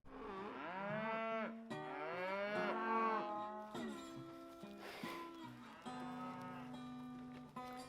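Cattle on a ranch moo in long, drawn-out calls, several overlapping one after another. The lowing is loud and steady through the whole stretch, with no talking.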